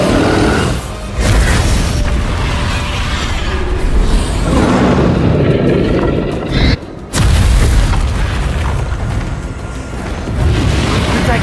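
Spell blasts from Confringo and Bombarda in the video game Hogwarts Legacy boom loudly and almost continuously, heavy rumbling bursts with one brief gap near the end, alongside a voice casting.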